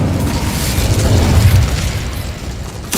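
An Incendio fire spell cast in Hogwarts Legacy gives a loud, sustained whooshing burst of flame that rumbles steadily before cutting off, with a sharp new blast at the end.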